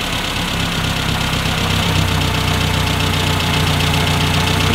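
A classic Mini engine idles steadily at close range after carburettor tuning set up for E10 fuel, a continuous loud rumble with a slight settling in pitch and no voices.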